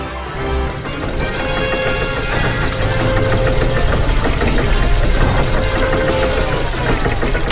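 Faulty machine engine in The Book of Unwritten Tales 2 running loud and close, a harsh rattling knock over a constant low rumble with no pauses.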